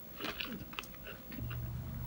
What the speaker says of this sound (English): Beautiful crunch on the outside.